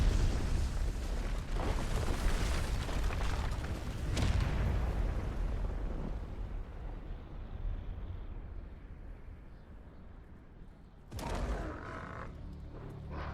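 A heavy, rumbling explosion from the video game Final Fantasy XVI booms loudly and rolls on for several seconds before fading, with a second sharp burst near the end.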